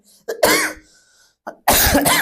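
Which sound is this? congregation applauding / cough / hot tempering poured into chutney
cough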